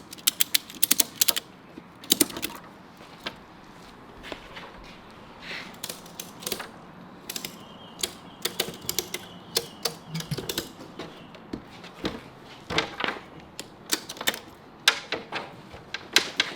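A ratchet strap is cranked tight on a Jet Tech fish and storage box, giving sharp, close ratchet clicks in irregular bursts with short pauses between, and no talking.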